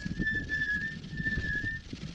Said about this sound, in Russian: Видите, как тормоза свистит.